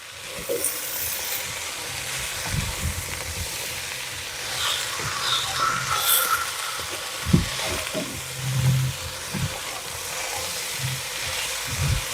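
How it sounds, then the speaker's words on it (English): Vegetables cooking in a pot over high heat give off a steady, moderate sizzle with soft intermittent clinks and stirring bumps, continuous throughout. "So the vegetables have been cooking now for 3 minutes."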